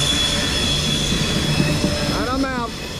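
A freight train led by two BNSF locomotives builds steady, loud engine drone as it accelerates along a rail line, with wheel squeal rising near the end.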